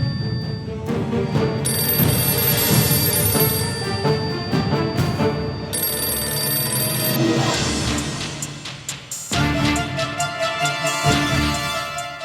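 A telephone rings repeatedly, its electronic ringing loud and close over dense background sound that continues throughout.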